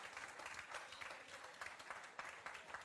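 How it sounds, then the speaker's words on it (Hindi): A classroom of students claps for themselves in a brisk, continuous burst of many hands, fairly faint and distant, steady across the whole moment. "अपने आप के लिए ताली बजाओ"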